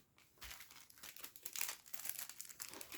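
A store-bought package from an ATB Market promotion is torn open, its plastic wrapper crinkling and rustling continuously at close range, quiet and crisp, with no talking.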